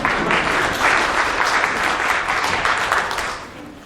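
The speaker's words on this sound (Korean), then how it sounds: "박수 한번 치주세요" Steady audience applause at a corporate RPA conference, a full, even patter of many hands lasting a few seconds before tapering off.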